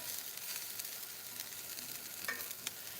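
Onions frying and browning in a pan for shrimp teriyaki, a faint steady hiss with a couple of light clicks of stirring, no voices.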